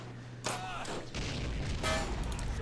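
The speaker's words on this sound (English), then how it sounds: "They're like shooting heavy artillery or something there." Heavy artillery in the WW1 desert battle of Men of War booms twice in quick succession, the blasts close and loud over a rumbling battlefield background.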